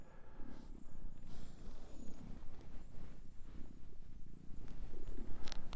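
A pet cat purrs close by outdoors beside a prairie patch, a low rumbling rhythmic purr running steadily throughout, quiet but continuous.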